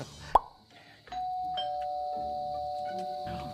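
A doorbell chimes once, followed by a long sustained electronic ringing tone that holds steady for a few seconds, fairly close and clear.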